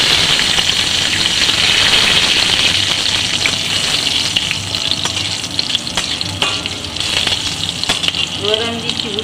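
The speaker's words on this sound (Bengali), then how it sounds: "এবার ফোড়ন হিসাবে আমি মেথি ফোড়ন দিচ্ছি, অল্প করে মেথি ফোড়ন, একটা তেজপাতা, দুটো লঙ্কা।" Fenugreek seeds, a bay leaf and two chillies crackle and sizzle in hot oil in a pan, a loud continuous frying hiss with sharp pops and occasional stirring scrapes.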